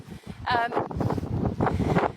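Strong, cold wind roars and buffets the microphone outdoors in Brixham on a dark evening, a steady low rumble that continues throughout, with a brief voice-like tone near the start.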